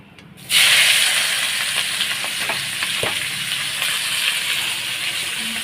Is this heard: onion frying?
yes